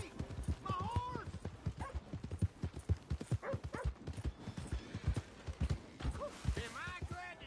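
Horse hooves clip-clopping in the Red Dead video game, a close rhythmic series of hollow thuds at a quick walking pace, mixed with game voices and dog barks and yips.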